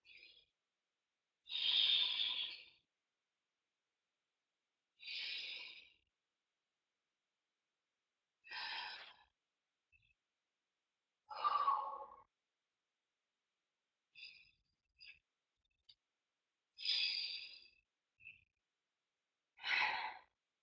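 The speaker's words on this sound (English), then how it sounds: "Just take a few deep breaths." Deep, slow breaths in a yoga child twist pose: a series of separate breathy inhales and exhales spaced a few seconds apart, close and fairly soft, with silence between.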